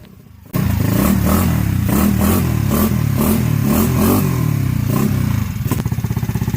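A GY6 scooter fitted with a new 171cc big bore kit and carburetor revs hard while being ridden during break-in, its buzzing engine pulsing through repeated throttle surges after a sudden start, with clattering and thumps mixed in.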